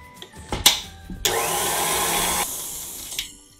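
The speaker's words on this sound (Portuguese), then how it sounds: "Agora eu vou bater 5 minutinhos na velocidade máxima, aí eu vou parar a batedeira" Electric stand mixer beating cake batter at top speed, a steady loud motor whine that starts abruptly, holds for about a second and a half, then cuts off, with a few clicks and knocks before and after; no talking.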